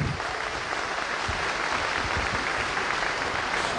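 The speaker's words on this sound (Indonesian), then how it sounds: "Boleh tepuk tangannya?" Applause from the audience at an LP3I 25th anniversary celebration, a dense, even roar of many hands clapping at moderate distance, sustained without a break and no talk over it.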